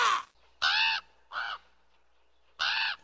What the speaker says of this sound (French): le corbeau est un gros oiseau noir qui a un cri qui n'est pas très beau